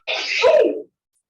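One loud, close human sneeze, a sharp breathy burst lasting under a second before sudden silence.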